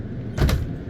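An RV drawer slides beneath a bunk, giving one brief, fairly close rolling swoosh with no talk.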